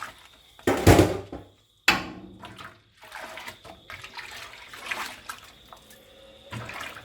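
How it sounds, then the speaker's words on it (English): Water poured into a pot while preparing a Coopers lager home brew, a loud splashing gush early on followed by lighter intermittent pouring, sloshing and clinks in a quiet kitchen. "I have to add water in this pot before I put it in my fermentosaurus"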